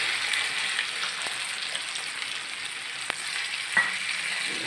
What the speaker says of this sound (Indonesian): ini kita tumis ya teman-teman ya, cabai ini sampai aroma wangi ya